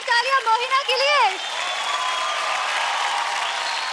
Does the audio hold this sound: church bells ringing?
no